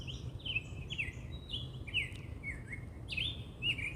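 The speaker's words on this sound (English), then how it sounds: "Do you hear the birds?" Small birds chirp repeatedly in quick, high, sliding notes, fairly close and clear over a quiet low hum.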